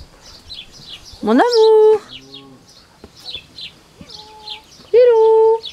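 A pet bird sings in its cage outdoors, giving bright chirps and two loud, sustained whistled calls close by, while someone speaks softly in between.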